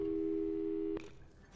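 Portal 2 video game telephone busy signal: a steady, loud tone held for about a second, then cut off abruptly, leaving a quieter electronic hum.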